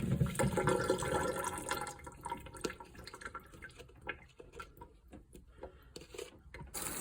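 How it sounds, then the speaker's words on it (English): Salted onions being rinsed under a running kitchen tap: a steady close rush of water with splashing that thins into irregular drips and trickles toward the end, no voices. "We just want to give them a good rinse and get that salt off them."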